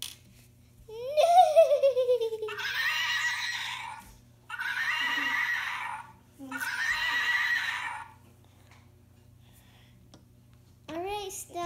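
A toy horse gives a high rising whinny, followed by three evenly spaced bursts of clip-clop or galloping sound, each about two seconds long, then a short chirp at the end, close and fairly loud.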